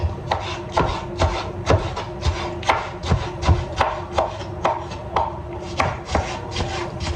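A knife chops tomato on a board for a sarma filling: a steady run of crisp, evenly spaced chops, roughly two per second, close and clear, with no talking.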